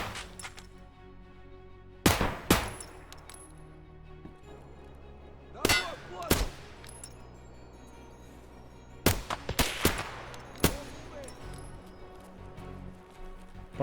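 Escape from Tarkov gunfire in hardcore mode, sharp clanging shots in several short clusters of two or three, loud and close against a quiet background.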